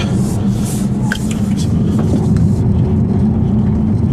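A 2015 Volvo V60 T6 pulling hard under full throttle out of a corner, a steady loud engine drone with dense low rumble, heard from inside the cabin over about four seconds.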